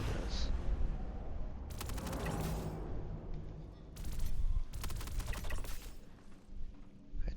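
Shots from a suppressed Dominco gun ring out as a few sharp cracks in separate bursts, moderately loud over quiet background, with talking in between.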